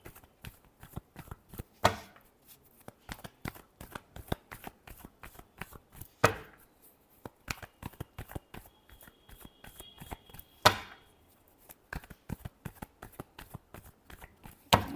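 Tarot cards are shuffled by hand in quick, crisp riffling flicks, a steady patter of close card snaps with a few louder slaps spaced through.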